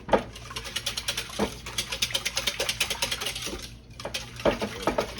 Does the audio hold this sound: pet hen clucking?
no